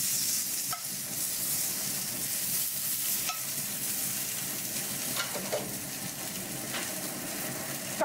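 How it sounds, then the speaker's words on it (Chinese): A filet mignon steak sears in a hot pan with only its sides browning, giving a steady close sizzle and frying crackle the whole time, with a few sharper pops along the way. "好，我们把侧面现在只是在煎侧面哦，把侧面煎的上色度再更强一点"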